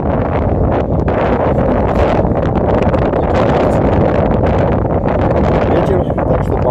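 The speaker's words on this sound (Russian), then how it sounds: "Ветер, так что пардон." Strong wind buffeting the microphone on an ocean beach, a loud continuous roar with gusty rumbling that fills the whole stretch without letup.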